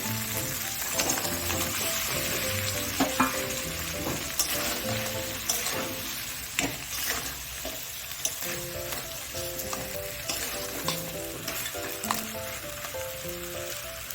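Masala and previously fried giant freshwater prawns stirred and sautéed in a pan, giving a steady, close sizzle with scraping stir noises and small pops throughout.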